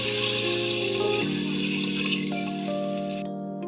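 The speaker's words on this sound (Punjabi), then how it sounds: "ਇਸ ਵਿੱਚ ਪਾਣੀ ਐਡ ਕਰਾਂਗੇ" Water poured into dal as it cooks on the stove, with oil already separated in the pot. A steady, continuous pour lasts about three seconds before tapering off, with no talking.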